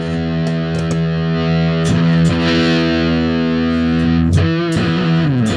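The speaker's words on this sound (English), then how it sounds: "this is what Ivor Arbiter copied part for part to make the fuzz face" Electric guitar played through a vintage fuzz pedal, the original circuit later copied for the Fuzz Face, giving sustained buzzy distorted notes and chords with a few pick attacks and slides, loud and continuous.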